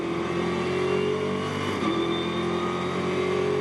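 A Ginetta GT Championship race car engine drones steadily from onboard at Oulton Park, high and buzzing, with a brief dip in pitch from a bad gear change on the Lakeside Straight before it picks back up.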